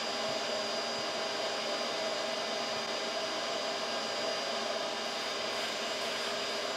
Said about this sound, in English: I'll just vacuum up as many as I can, get the area cleaned up